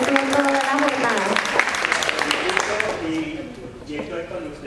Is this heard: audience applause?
yes